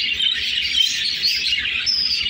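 Pet birds kept for breeding chirp and twitter in a dense, continuous chorus, bright and fairly close, with a low rhythmic hum underneath.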